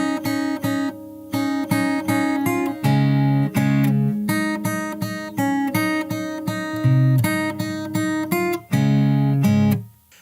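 Fingerstyle acoustic guitar plays verse 2 of a song, clean plucked notes and bass in a steady, syncopated rhythm, close and loud, ending on a fading final chord.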